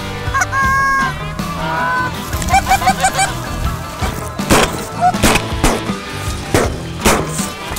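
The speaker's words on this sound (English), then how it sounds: "Bunch of geese to the right." Several Canada geese honking close by during a goose hunt, in repeated overlapping calls, with rustling and thumping noises in between.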